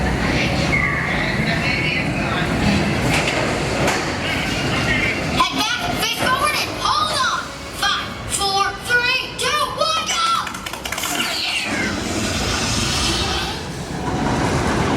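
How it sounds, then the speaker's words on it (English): An Incredicoaster roller coaster train at Pixar Pier at night rumbles and clatters along its track at a moderate distance, while people talk over it. "it looks like a train's coming right now"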